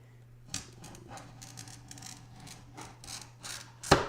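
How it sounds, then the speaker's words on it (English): A glass cutter scores a strip of iridized stained glass, giving a quiet, raspy scratching that runs in short uneven strokes and ends in a sharp snap. No one speaks. "I want y'all to listen to when you're cutting iridized glass, because of the stannous chloride on it"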